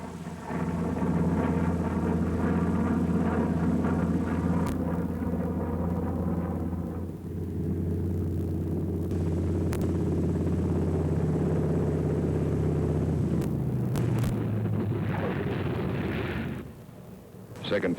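Several WWII P-47 Thunderbolt fighter planes roar overhead in flights, giving a heavy rumbling piston-engine drone that swells and shifts as they pass and peel away, with someone talking over it.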